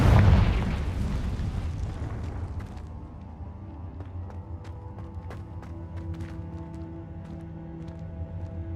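A Confringo blasting spell explodes in Hogwarts Legacy, a loud booming burst at the start that decays into a rumbling tail, followed by quieter scattered crackles and small clicks.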